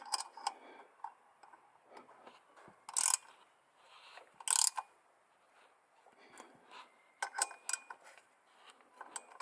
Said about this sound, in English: Now that we've got our belt fitted up, we can now tighten these bolts.